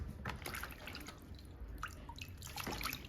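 Fish being washed in vinegar water for Jamaican steamed fish, with steady splashing and dripping of water close by, running continuously without talk.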